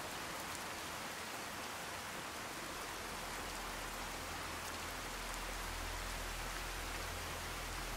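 Rain in Fallout 4 hisses steadily as a dense, even downpour, with a low rumble building underneath partway through.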